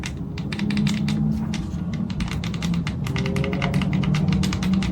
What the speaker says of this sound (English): these buttons have a micro switch connection, which means they are pretty clicky.